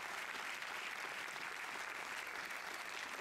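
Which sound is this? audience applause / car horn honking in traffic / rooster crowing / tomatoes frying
audience applause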